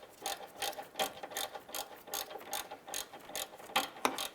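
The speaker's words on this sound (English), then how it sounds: "Let's go ahead and tighten up that bottom bolt." Close, rapid clicking of a ratchet wrench tightening the bottom alternator bolt on a 2011-2019 Ford Fiesta, in short repeated bursts of pawl clicks with a steady rhythm and no voices.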